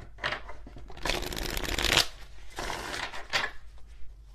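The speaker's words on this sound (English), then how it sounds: "let's do one more shuffle just in case." Tarot cards are shuffled with a rapid, crisp riffling flutter in two bursts, close and clear, separated by softer handling noises, with no talking.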